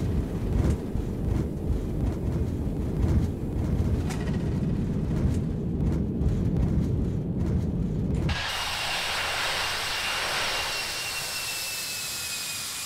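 Jet airliner thrust reversers roaring after touchdown in the X-Plane 11 flight simulator, a loud dense rumble for about eight seconds that cuts off abruptly to a quieter high-pitched engine whine, with no voices.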